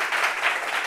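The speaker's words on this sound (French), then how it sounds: "Donc, est-ce qu'on peut applaudir pour Armand?" A room of listeners at a gathering of blind and visually impaired people breaks into a short, dense burst of applause for Armand, soft-edged and continuous for under a second.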